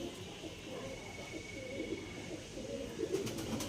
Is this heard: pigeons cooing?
yes